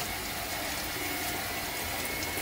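Vegetables for a salad, small cucumbers and tomatoes, are washed under a kitchen tap, giving a steady, loud hiss of running water with faint clinks and no talking.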